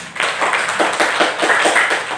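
Classroom applause as a group of pupils comes forward to present, a dense patter of many hands clapping steadily and close for the whole stretch, with no voices over it.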